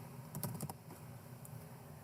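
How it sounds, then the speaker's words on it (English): Quick keystrokes as a search is typed on a computer keyboard, a short cluster of soft clicks followed by one isolated tap, faint against a quiet room. "we type in Mike Tyson"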